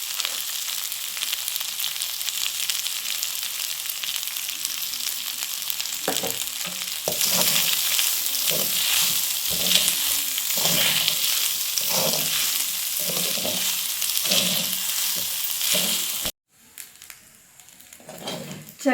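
Jeera rice with salt is stirred in a hot pan over a low flame, a soft continuous sizzle with rhythmic scraping strokes close by, ending in a sudden drop to near quiet.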